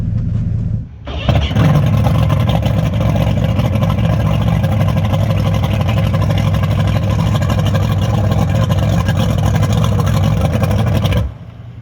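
A 260hp single outboard motor on a tunnel-deck boat roars steadily at close range after a brief start, holding a loud, continuous drone with a slight rise in pitch before cutting off.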